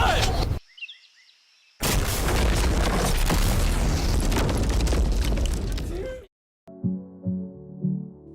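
Loud, sustained roaring blast from a test explosion against an armored Rezvani vehicle that stops abruptly, followed by a short tonal sound after a brief silence.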